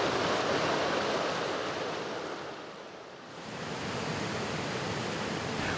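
A creek flows along the Menominee River in brook trout country, making a steady broadband wash that dips softly midway and then returns to a constant rush. No voices are heard.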